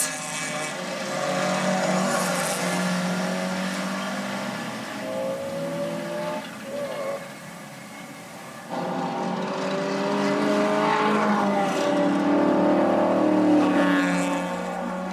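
Race cars at the 2005 Nürburgring 24-hour race, including a British-made Morgan, roar past on a rain-hit track, engines droning and shifting in overlapping passes, loud and continuous, with a brief dip mid-way before another car swells in.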